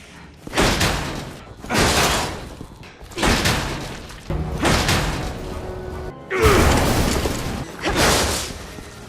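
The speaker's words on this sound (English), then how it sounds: "there's also a lot of opening doors together" Doors banging open and shut one after another in Resident Evil 6, a series of about six loud thuds and slams at a steady pace, heard alone without talk.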